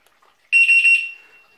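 A single shrill electronic beep from a wireless bicycle alarm horn, steady and piercing for about half a second, then fading quickly.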